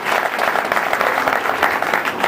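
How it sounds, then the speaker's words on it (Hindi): Loud, dense audience applause at a Hindi-language gathering, steady rapid clapping from many hands close by, continuing without a break and with no talk over it. "एक बार जोरदार ताली"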